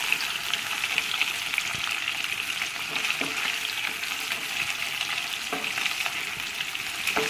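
Chicken for kanthari chicken fries in a pan with a dense, steady sizzle and crackle close by, occasional soft pops, and no one talking.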